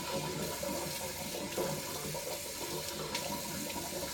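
Tap water runs steadily into a bathroom sink while someone wets their face during a morning skincare routine, a continuous close splashing stream with no talking.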